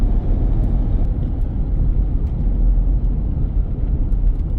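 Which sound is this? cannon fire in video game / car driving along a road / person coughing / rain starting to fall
car driving along a road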